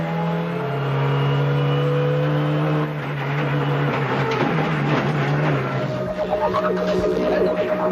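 Ford Focus rally car, a new 2006 model, at the Rally of Catalonia: the engine drones and revs through gear changes, with bursts of higher-pitched strain and rasping exhaust, heard continuously throughout.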